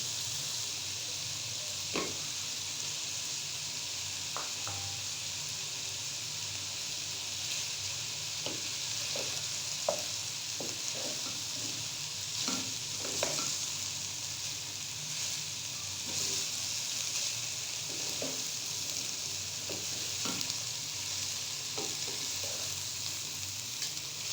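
Capsicum and cabbage fry in a pan with a steady soft sizzle, broken by occasional stirring clicks and scrapes, close and continuous.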